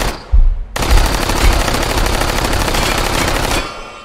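Sustained rapid automatic gunfire in the VR shooter Hot Dogs, Horseshoes and Hand Grenades, loud and close: a single shot, then a dense continuous burst lasting about three seconds before cutting off.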